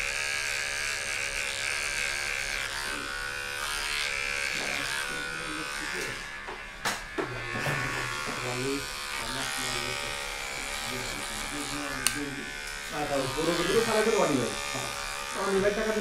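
Electric hair clipper cutting hair during a haircut, giving a steady close buzz that runs under continuous talking from start to finish.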